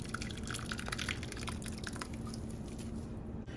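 Masala wash water is poured into a goat curry, giving a soft, steady trickle with light drips and splashes, close by and fairly quiet throughout.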